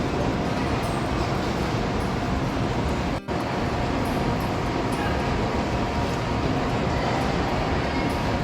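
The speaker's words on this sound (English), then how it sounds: "Okay, onto my train." An Amtrak Sightseer Lounge car rolls along with a loud, continuous rumble and roar of wheels on rails, steady throughout with a brief dip near the middle and no voices.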